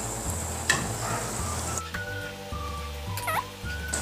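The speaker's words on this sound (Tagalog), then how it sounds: "So, ngayon, mainit na yung ating mantika ay magprito na tayo." Saba banana ube cheese balls fry in hot oil with a constant crackling sizzle, punctuated by a few light clinks of a utensil against the pan.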